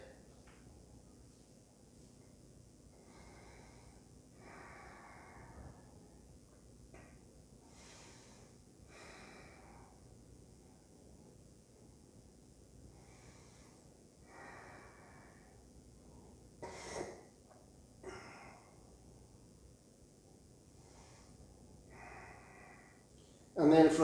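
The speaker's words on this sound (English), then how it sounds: "just Ujjayi breathing again" Slow, audible breaths of ujjayi yoga breathing, soft airy rushes recurring every few seconds through a quiet room, with a sharper snort-like breath near the end.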